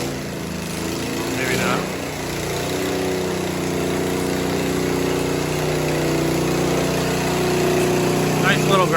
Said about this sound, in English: Sounds like that trowel's about to run out of gas.